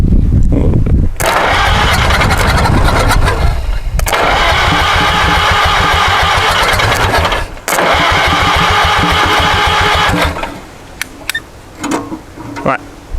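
An old barn-find tractor engine is cranked on choke and catches, running loud and rough in close bursts with brief cut-outs, then dropping to an uneven idle as voices talk nearby.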